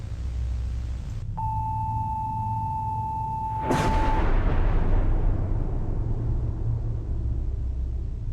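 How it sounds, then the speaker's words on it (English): A sudden broadband crack followed by a long, decaying rumble of thunder in a horror video game, heard after a steady electronic tone, loud and close over a constant low background hum. "Was that lightning? Or was it the thunder?"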